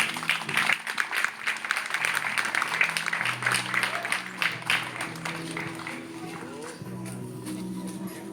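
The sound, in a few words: applause for God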